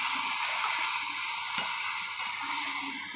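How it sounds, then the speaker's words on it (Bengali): A potato and soybean curry fries and bubbles in a pan, giving a continuous close sizzle with a few soft clinks of stirring and no talk. "এই দেখো, এটাও টকবক করে ফুটছে"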